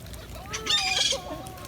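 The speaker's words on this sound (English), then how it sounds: "Oh, a bird!" A bird calls at a beach campsite on Emerald Isle, North Carolina, giving a short clucking, crowing-like cry that rises and falls over about a second, close by against steady outdoor background noise.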